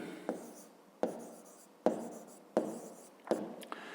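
Pen strokes by hand on paper while working a fifth-grade maths exercise, five distinct scratchy writing bursts spaced about a second apart, close and fairly quiet, with no talking.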